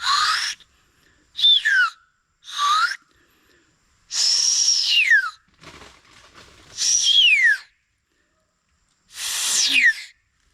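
A handmade whistle gives six shrill, bird-like calls with downward-sliding notes, loud and close, separated by short pauses. A brief breathy rustle falls between two of them.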